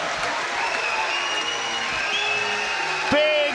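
A boxing crowd at the end of a Tyson Fury fight against Dereck Chisora cheers and applauds in a loud, sustained roar, with whoops and whistles rising above it and voices mixed in.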